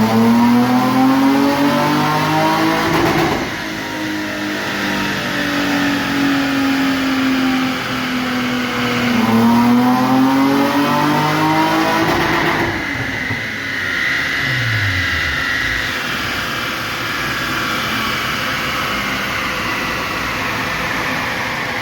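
A Z car's engine revs hard on a dyno in repeated rising and falling sweeps, loud and continuous throughout, with no talk over it.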